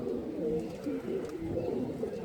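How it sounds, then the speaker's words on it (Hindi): Pigeons fly and coo around a cage, giving soft repeated low cooing calls that run steadily from start to finish at moderate volume, with faint background noise. "नीचे से भी उड़ के कबूतर बड़े खुश हैं जी, ठापे वगैरह लगा रहे हैं कबूतर"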